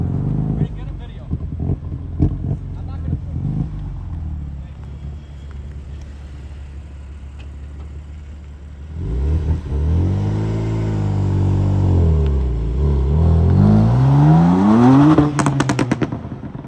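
A cheap rebuilt BMW M3 engine fires up and revs hard, its exhaust popping and crackling loudly close by, with rising and falling revs and a voice talking over the start.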